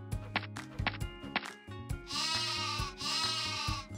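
Cartoon sheep bleat in a bedroom at night while a sleepless character counts sheep before a race: a run of short, close bleats early on, then two longer, wavering bleats that fill the rest of the stretch, with no talk over them.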